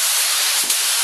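A paint spray gun sprays red Dupont base coat in a short, loud, steady hiss, close by, with a tiny flutter near the end as the stroke passes.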